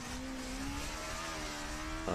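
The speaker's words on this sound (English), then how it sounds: "all the cars you hear in our background is" Formula SAE combustion race cars running past the start line at an endurance event, a continuous engine drone with rising and shifting pitch, heard from a little distance, moderately faint, with a sharper burst of sound at the very end.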